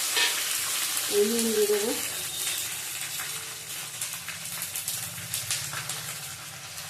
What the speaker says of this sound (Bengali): দেখো এবার টমেটোটা দেবো, এই টমেটো দিলাম